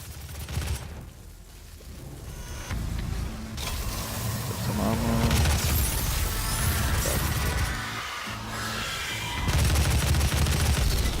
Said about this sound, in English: the heavy assault rifle is my personal favorite because it's extremely accurate